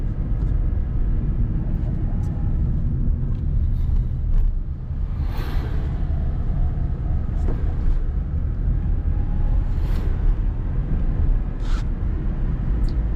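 A car rolls downhill in third gear on a hill road, giving a steady low engine and road rumble throughout, with faint brief rises from passing traffic.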